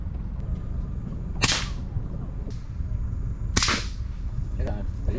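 Two sharp cracking gunshots fired at an iguana outdoors in Key West, Florida, spaced about two seconds apart, with a fainter snap between them over steady background noise.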